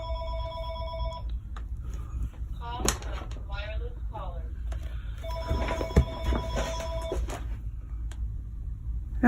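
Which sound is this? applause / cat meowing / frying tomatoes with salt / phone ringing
phone ringing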